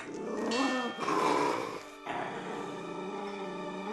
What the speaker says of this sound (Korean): 갑자기 으르렁대기 시작하는 깡순이